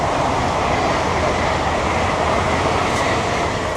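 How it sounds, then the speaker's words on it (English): A train rolls past an allotment garden, loud and close, with a steady rumbling roar and rail clatter filling the whole stretch with no letup. "Oh, the train's coming again."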